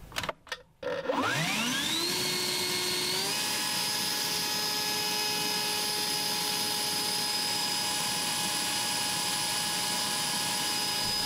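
A cordless leaf blower spools up from a couple of clicks into a rising whine, then holds a loud, steady high-pitched roar at full power for several seconds, mounted as thrust on a bike.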